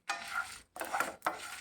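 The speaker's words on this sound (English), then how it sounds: "Slightly dry roast them," Spices dry roasting in a pan over a slow flame are stirred in three scraping, rattling strokes with short pauses between them, close and fairly soft.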